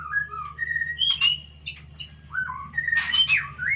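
A white-rumped shama sings a varied series of clear, loud whistles and rapid chirpy phrases, close by, with brief pauses between bursts.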